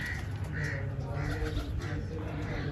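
Pigeons coo repeatedly in soft rhythmic calls close by, against a steady background hum, with a few brief flutters.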